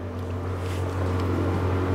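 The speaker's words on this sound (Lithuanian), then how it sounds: "Pirmosios žvejų valtys jau maršruoja." Fishing boats motor along the Danube near Tulcea at dawn, a steady, continuous low engine drone with water noise and no voices.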